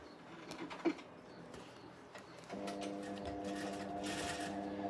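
A sewing machine stitches a seam while a piping cord is set into a garment, its steady hum starting midway and running continuously to the end over low background noise.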